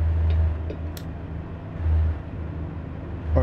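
A Peterbilt 379 truck with a Caterpillar 3176A engine in American Truck Simulator drones at a low, steady pitch and swells slightly twice, with soft, faint road noise.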